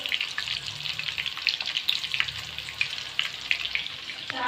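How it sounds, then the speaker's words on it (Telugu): Food pieces deep frying in hot oil, a steady bubbling sizzle with crackling pops running throughout at moderate volume, no voices. "మంచిగా డీప్ ఫ్రై చేస్తున్నాయి"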